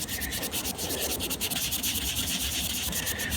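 Steady back-and-forth rasp of 400 grit sandpaper scrubbing a Western Electric Model 500 desk phone housing, a continuous rhythmic scratching close up with no talking.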